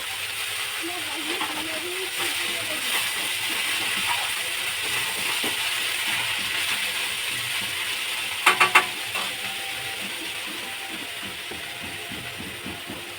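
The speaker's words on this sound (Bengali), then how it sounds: "এই যে মেথি শাক ভাজা বসিয়ে দেবো আর কি কড়াইতে তেল দিলাম কালো জিরে শুকনো লঙ্কা" Fenugreek greens fry in a wok with oil, nigella seeds and dried red chillies, giving a steady soft sizzle and hiss, broken by a quick cluster of sharp clicks partway through.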